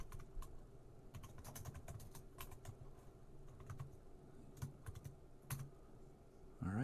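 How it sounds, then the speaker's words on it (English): Rapid, uneven keystrokes on a modern computer keyboard hooked to a CoCo home computer, close and fairly quiet, clattering in irregular bursts over a steady low hum, with no talking. "Very easy to type with the modern keyboard, really nice."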